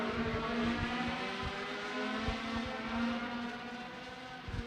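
Race cars at Potomac Speedway, a local-class heat race, roar steadily around the track, a sustained engine drone with layered harmonics and a few sharper bursts, fairly constant in loudness with no talk.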